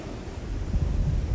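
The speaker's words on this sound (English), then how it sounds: "I'm sitting here looking at waves" Ocean waves wash against the shore, heard as a continuous low roar mixed with wind buffeting, which grows louder and surges midway through without any voices.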